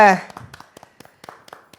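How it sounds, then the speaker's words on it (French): A small group claps for themselves in a sparse, uneven patter of separate handclaps that follows a brief burst of speech, fairly close and light. "Vous applaudissez pour vous-même."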